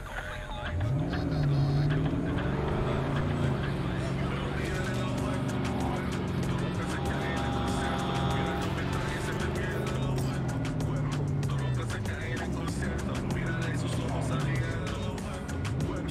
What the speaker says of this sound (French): elle est horrible la bagnole